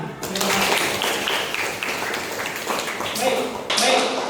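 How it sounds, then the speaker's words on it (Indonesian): Applause from students in a classroom, a steady patter of clapping lasting several seconds that fades near the end as a teacher's voice returns. "Oke, tepuk tangan."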